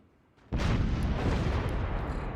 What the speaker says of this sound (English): I'll kill this guy before I get absolutely obliterated by those howitzers there.